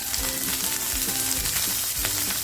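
Okra fries in a hot pan with a sprinkling of turmeric, a loud close sizzle with rhythmic scraping stirs recurring about every half second.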